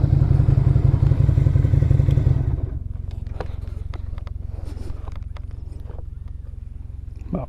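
Lifan Lycan 250 motorcycle engine running loud with a low pulsing rumble, then cutting out after a couple of seconds to a quieter idle-like throb with scattered clicks and clatter.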